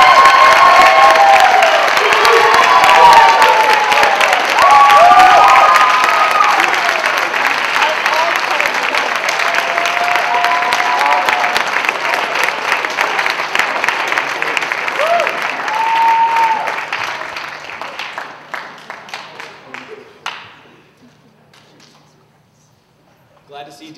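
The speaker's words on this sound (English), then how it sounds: "hold your applause throughout the remainder of the event, except for right now as we welcome both of our presidential candidates, Michael Coots and Daniel Wynn." Audience at a student presidential debate applauds to welcome both candidates, a loud sustained wave of clapping with some cheering that fades out over the last few seconds.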